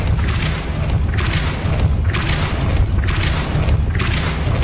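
Depulso spell cast in the Hogwarts Legacy video game, heard as a rhythmic series of deep booming thumps, about one each second, loud and close over a constant low rumble, with no speech.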